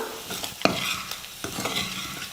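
A spoon stirs egg masala in a pan over a medium flame: a few distinct scrapes and knocks against the pan over a soft underlying sizzle, close by and without talk.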